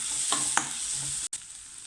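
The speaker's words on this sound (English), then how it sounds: "and mix well." Spices being stirred into a shakshuka tomato sauce in a frying pan, a steady sizzle with a few soft scraping strokes and a brief dropout near the end, close and moderately loud.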